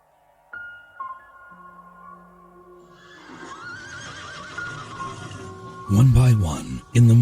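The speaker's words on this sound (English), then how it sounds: "neighing far off on the haunted air, the unicorns come down to the sea" Horse whinnies and neighs standing in for unicorns, loud close calls near the end over a moody tonal music bed, with an earlier softer neigh drifting in the background.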